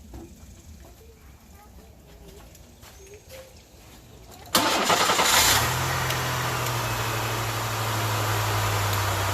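A Chevrolet Corsica engine cranks briefly, then catches and starts, settling into a loud steady idle. Quieter background sounds and some voices come before the start.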